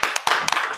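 A few people clap in short, uneven bursts at a press conference in Brussels. The claps are close and moderately loud, separated by brief pauses, with no voices.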